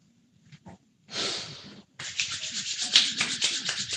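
Oiled hands rub together briskly in a close, breathy swishing sound, a short burst and then a longer stretch of rapid rubbing strokes.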